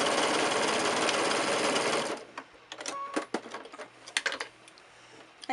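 A sewing machine back stitching at the end of a seam on fabric for a drawstring bag runs in a dense, steady whir for about two seconds, then stops, leaving scattered clicks and handling noises of fabric and pins.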